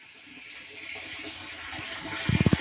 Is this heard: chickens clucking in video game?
no